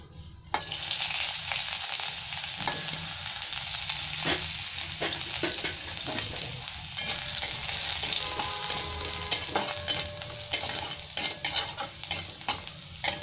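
Garlic sizzles hard in very hot oil in a wok, a loud continuous frying hiss with scattered clinks and scrapes of a stirring utensil, no voices.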